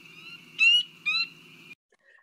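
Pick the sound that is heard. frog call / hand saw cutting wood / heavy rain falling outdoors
frog call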